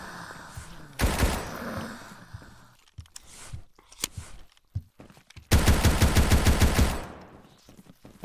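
A handgun in a video game fires in rapid bursts: a short volley near the start, scattered single shots, then a longer fast string of loud cracks before fading.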